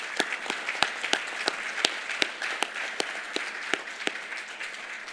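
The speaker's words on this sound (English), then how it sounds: "Let us give you a round of applause." At a forum, an audience applauds dignitaries from the Republic of Korea and diaspora communities, sustaining a moderate wash of clapping marked by scattered sharp, close hand claps.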